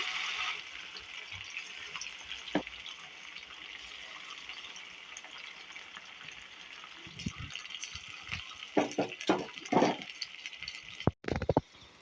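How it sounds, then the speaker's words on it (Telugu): Battered chicken pakora pieces dropped one at a time into hot frying oil: a steady hiss throughout, then a cluster of crackling, bubbling bursts toward the end as the pieces go in. "ఆయిల్ హీట్ అయిందండి, వేసుకుందాం. ఒక్కొక్కటిగా వేసుకుందాం."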